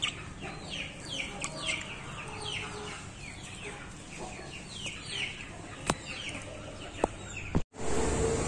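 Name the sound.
sick chicken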